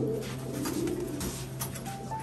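Pigeons, among them a hen and a red-eyed bird, coo steadily in soft, rumbling throaty calls, close by over a constant low hum, with no one speaking.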